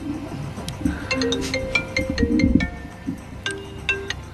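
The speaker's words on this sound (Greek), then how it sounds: "Το καθιερωμένο τηλέφωνο" A telephone rings during a Greek sports radio show, a series of bright electronic tones repeating over a few seconds with faint background room sound.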